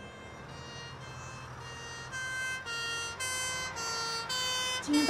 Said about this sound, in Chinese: 今天到底怎么了？ 这么多辆救护车出动。